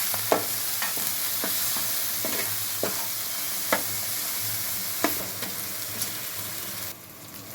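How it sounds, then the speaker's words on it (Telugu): Turmeric and ginger garlic paste frying in hot oil for a fish curry, a continuous sizzle broken by repeated scraping clicks of a spoon stirring against the pan, close and steady with no talking. "పసుపు, అల్లం వెల్లుల్లి పేస్ట్ కూడా పచ్చి వాసన పోయే వరకు ఆయిల్లో ఫ్రై చేసుకోవాలి."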